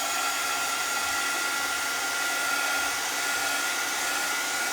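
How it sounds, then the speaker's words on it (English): A hair dryer blows in a steady, close whir with no pauses while drying red paint on a 3D-printed part; no one speaks. "let's hit this with the dryer a second"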